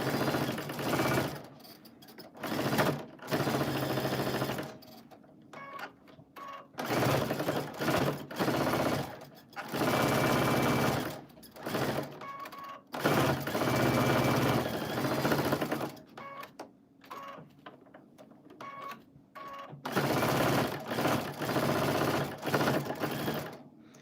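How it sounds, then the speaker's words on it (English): A sewing machine runs a second line of top stitching around a small pincushion, whirring loud and close in repeated bursts of rapid stitching separated by short pauses. "I'm going to go and do a little teeny tiny little top stitch all the way around a second top stitch"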